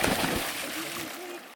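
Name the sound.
splashing while swimming in Amazon river water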